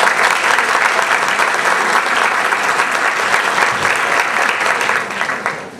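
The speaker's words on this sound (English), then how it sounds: "It always makes me slightly nervous when people clap before I've said anything." Audience applause at a talk fills the room, a steady, dense wash of clapping from a crowd that holds strong throughout and tapers slightly at the very end.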